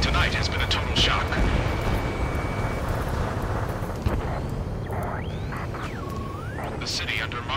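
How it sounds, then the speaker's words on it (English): In the Ace Combat 7 video game, jets roar overhead and gunfire and explosions crack through a city, forming a loud, dense, continuous rumble with sharp bursts, while a voice talks over it. "Gunfire and the roar of jets echoing through the streets"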